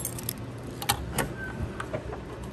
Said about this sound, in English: we have the square key right here for the ignition, the fuel key, and then the round one is for the trunk